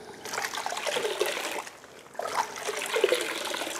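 A car wash mitt being rinsed in a bucket of water, sloshing and trickling in two bursts separated by a brief lull, close and moderately loud with no talk.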